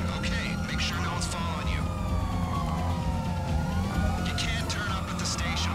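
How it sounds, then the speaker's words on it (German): A police car siren wails in GTA 5 Online, its rising and falling tones layered over a steady engine rumble, fairly close, while players talk over it. "So, das Polizeiauto haben wir."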